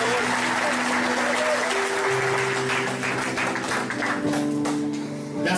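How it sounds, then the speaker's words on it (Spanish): A congregation applauds during a Spanish-language church service, with loud, continuous clapping mixed with sustained musical tones and a murmur of voices throughout. "Dale esa fuerte aplauso a mi hijo"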